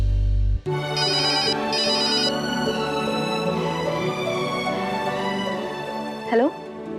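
A telephone ringtone plays loud and close, a repeating electronic melody that starts abruptly and sounds for several seconds before a short pickup noise near the end.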